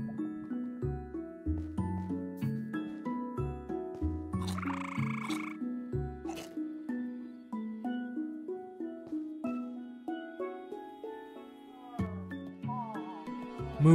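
A warped toad from the Alex's Mobs mod in Minecraft croaks over and over in rhythmic, layered bursts, with a few higher squelchy and tinkling game sounds mixed in.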